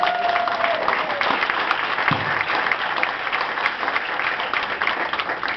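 A rally crowd at the De Anza Motel applauds steadily for a campaign figure. The clapping is dense and sustained and stays fairly loud throughout, with a brief tonal whistle or shout near the start.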